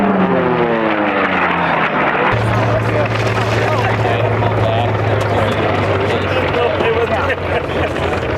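Propeller racing airplanes roar past at the Reno air races during a final lap, a loud engine drone whose pitch drops as a plane passes close, then settles into a sustained buzz with voices underneath.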